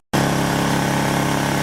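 A Sportsman GEN3500I 3500-watt inverter generator running above idle, heard from about 43 feet away: a steady, even droning hum that starts abruptly and holds constant throughout.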